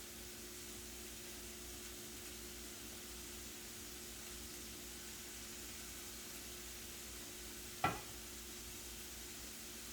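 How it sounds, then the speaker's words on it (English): Butter sizzles faintly in a frying pan with a soft, steady hiss, broken once by a single sharp click near the end. "we're going to let the butter slide around the pan"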